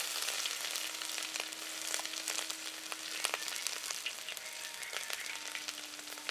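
Crushed ginger and garlic with fennel seeds fry in a pan over a wood-fired stove, a steady bright sizzle with scattered small pops and crackles, continuous and close.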